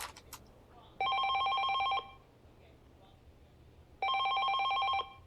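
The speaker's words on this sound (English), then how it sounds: "the ringing phone broke his train of thought" Telephone bell ringing in the video game 428 Shibuya Scramble, two loud one-second bursts of electronic ringing separated by a pause, heard alone over a faint background.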